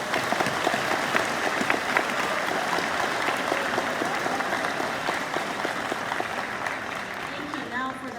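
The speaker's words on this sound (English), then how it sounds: "Please join me in applauding" Steady applause from a high school awards ceremony audience honoring award recipients, dense and sustained clapping with murmured voices mixed in throughout, holding level for the whole stretch.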